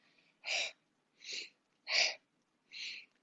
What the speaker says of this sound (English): start to make that exhale audible